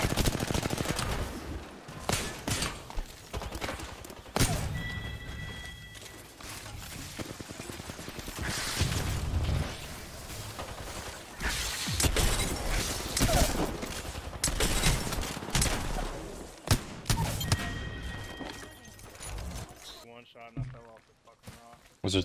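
Gunfire in the video game Apex Legends, with rapid bursts of automatic shots and repeated fusillades over a busy game mix, while players talk excitedly throughout.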